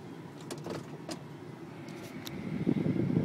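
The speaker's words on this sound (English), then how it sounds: "Let me show you how it drives, how it shifts, how it accelerates." A 1998 Lincoln Town Car drives and accelerates: steady low engine and road rumble from inside the cabin that swells toward the end, with a few brief clicks and squeaks along the way.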